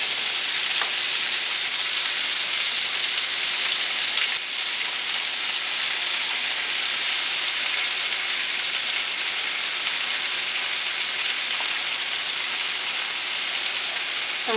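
Large garlic cloves and a heap of mushrooms fry in a pan outdoors, giving a steady, loud hissing sizzle that holds without a break from start to finish.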